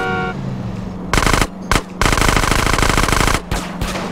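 Loud automatic gunfire in the video game GTA San Andreas comes in long, rapid bursts with short gaps between them, close and dominant throughout.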